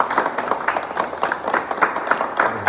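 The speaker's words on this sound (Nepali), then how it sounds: "ताली ताली ताली" Rhythmic hand clapping from a gathered group at a Magar community anniversary celebration in Galyang, steady and moderately close for the whole stretch, with faint voices mixed in.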